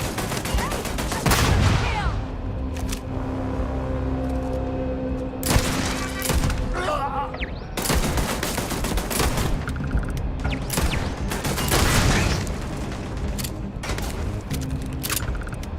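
Heavy gunfire in Starfield, loud overlapping bursts and booming shots in repeated volleys with short gaps between, rapid automatic fire mixed with heavier blasts, with no speech over it.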